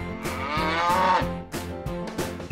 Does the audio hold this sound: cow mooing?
yes